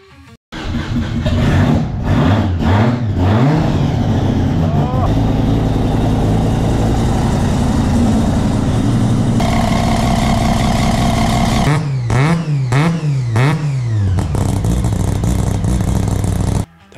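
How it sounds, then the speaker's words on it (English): A 13B rotary engine fitted to a custom motorcycle build revs loudly and close, rising and falling in repeated wavering blips with a steady buzzing idle between, alone without talk. "Now to the motor, a 13B rotary."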